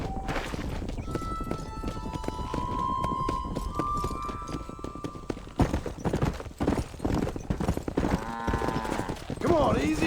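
Horse hooves clip-clop at a running pace in the Western video game Red Dead Redemption, a steady rhythmic clatter under game music, with a rider's voice calling out and a whinny near the end.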